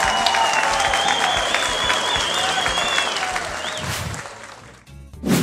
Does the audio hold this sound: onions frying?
no